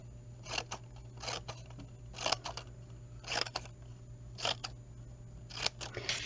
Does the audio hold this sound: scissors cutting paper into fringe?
yes